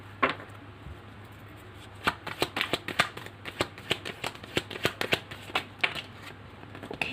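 Tarot cards being shuffled by hand, a quick run of crisp riffling snaps and soft slides with irregular bursts, close and fairly quiet, with no voices.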